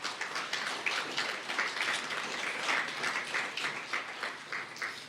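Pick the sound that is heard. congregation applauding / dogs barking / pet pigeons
congregation applauding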